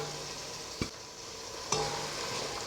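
Chopped carrots frying with turmeric in a pan, a quiet steady sizzle with two distinct scrape-and-tap strokes of a spoon, close and without voices.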